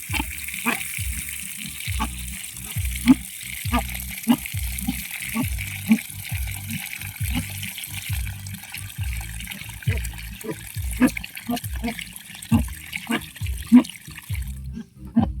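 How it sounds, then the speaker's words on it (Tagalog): Water runs from an outdoor tap while being fetched in the countryside, a steady rushing flow with rhythmic knocking pulses throughout and occasional voices over it. "manguha sa tubig diri"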